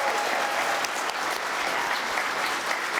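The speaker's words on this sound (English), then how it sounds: "Let's get another round of applause for them." An audience applauds interns, a dense, even roll of many hands clapping that holds steady for a few seconds at moderate loudness.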